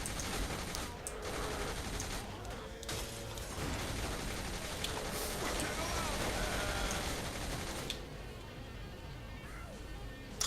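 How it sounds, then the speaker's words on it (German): Dense, sustained bursts of rapid machine gun fire in the video game Saints Row: The Third fill nearly the whole stretch, dropping off near the end with voices faintly underneath. "Ich schieße mit einem MG auf sie."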